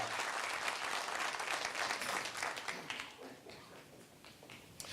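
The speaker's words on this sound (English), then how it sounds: "Another round of applause for Ray Hodges, everybody." A crowd at a chamber of commerce business recognition breakfast applauds steadily, the clapping loud at first and gradually thinning and fading out.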